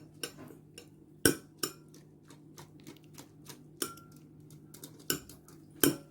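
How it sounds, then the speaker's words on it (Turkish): A spoon stirs instant coffee and water for tiramisu, clinking sharply against the sides of a cup in a quick irregular series of bright taps, close and clear with no talking. "Kahvemiz eriyene kadar iyice karıştırıyorum."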